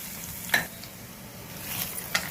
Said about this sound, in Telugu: ఇదిగోండి ఎండుమిరపకాయలు వేస్తాను.